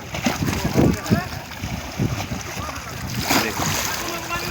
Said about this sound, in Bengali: ঢেউগুলি পারে এসে আশ্রয় করছে এবং অদ্ভুত সুন্দর কিছু শব্দ হচ্ছে